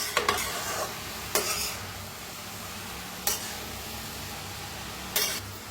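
Cabbage roasting in a pan for a spiced cabbage sabzi, with a steady low sizzle broken by four sharp scrapes of a spoon stirring, close and fairly quiet, no voices.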